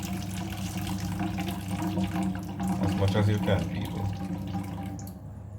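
Liquid trickles and splashes steadily as cooking juices are poured off a pan of baked chicken, close by and moderately loud, with a person talking over it.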